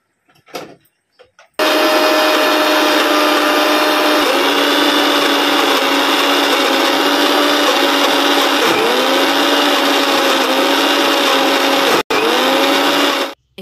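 A mixer grinder grinds food at home, starting abruptly and running as a loud, steady whirring roar whose pitch dips briefly under load, with a momentary cut before it stops near the end.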